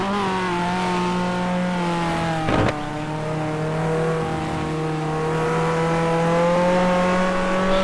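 An E92 BMW race car engine drones steadily from onboard at Spa-Francorchamps. It holds a strong harmonic whine that rises and falls through gear changes, with one brief thump partway through and no talking.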